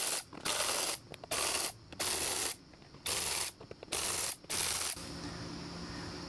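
A T25 Torx fastener on the top of an Audi A airbox is loosened with a ratcheting driver: five loud bursts of rapid ratchet clicking, close up, then a quieter steady hiss to the end.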